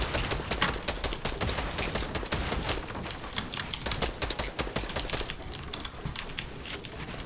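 Rapid gunfire and wall-building clatter from a Fortnite Battle Royale match, a dense stream of sharp clicks and bursts crowding one another without pause, with no talk.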